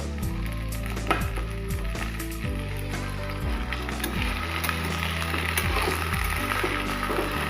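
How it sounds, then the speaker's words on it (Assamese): Onions and moringa drumsticks frying in a pan make a continuous sizzle. Irregular clatters and scrapes from stirring and pieces being moved run on top of it. "পিঁয়াজখিনি মোৰ ভাজা হৈ গৈছে ইয়াতে মই সজনাখিনি দি দিম"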